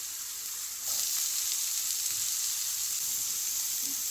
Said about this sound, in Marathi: आता छान भाजून घेऊ ह्या भाज्या